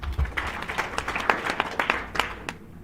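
A lecture audience at a university talk claps together, a crowd of hands making dense, steady applause with distinct individual claps, moderately loud and alone, for nearly three seconds.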